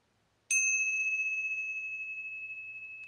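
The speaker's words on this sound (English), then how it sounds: "The other thing I got was a set of tingsha bells." A pair of tingsha bells struck together gives one bright, sharp clang followed by a long, pure, slowly fading ring with a gentle shimmer, close and alone in a quiet space.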